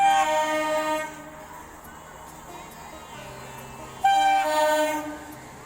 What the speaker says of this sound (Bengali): 8টা 27 মিনিটের বনগাঁ রানাঘাট লোকাল ধরেই আমাদের আজকের যাত্রা শুরু